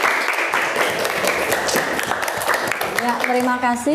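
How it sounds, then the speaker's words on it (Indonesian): Applause from a classroom audience for the first group after their presentation, steady clapping spread across several seconds before a voice briefly speaks. "Kasih aplaus untuk kelompok 1"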